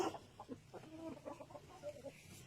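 Rhode Island Red and Black Australorp breeder chickens on a farm in Pangasinan cluck in a run of short, soft calls, fairly close and with no talk over them.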